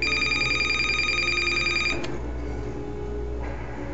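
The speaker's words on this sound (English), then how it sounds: "my phone's ringing" A phone rings over game audio, giving a steady electronic ring tone for about two seconds that then cuts off, leaving a quieter background hum.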